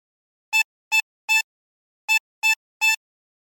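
A 24-hole tremolo harmonica plays the Squid Game theme phrase: two groups of three short, shimmering drawn notes separated by a pause, close and solo with no voices.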